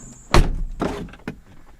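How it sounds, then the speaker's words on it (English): Closing the door of a Mini Cooper gives a loud solid thunk followed by a softer latch rattle and a final small knock, heard up close in a quiet space. "Let me close the door for a second."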